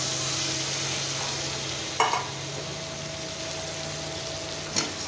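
Chicken meat fries in a pan for a home-style chicken fry, giving a steady close sizzle broken by two sharp scrapes of a spoon stirring the pieces.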